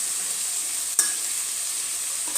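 Cauliflower paturi cooking in a pan gives a steady, fairly loud hiss of frying throughout, broken once by a brief scrape or stir.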